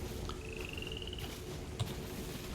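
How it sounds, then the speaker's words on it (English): Frogs croak in a video game, a soft ambient chorus with a thin whistling call and a single louder croak near the end, faint and alone without talk. "I hear froggies. I hear frogs."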